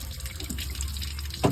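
Water running and splashing into the engine block of a 1994 Ford Ranger through the thermostat housing opening during a block flush, a steady close trickle that lasts throughout with a brief louder gurgle at the end.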